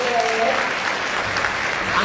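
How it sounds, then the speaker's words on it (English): An audience at a business talk claps in a warm round of applause, a dense continuous wash of many hands, loud and close, with voices mixed in. "Let's give him another warm round of applause."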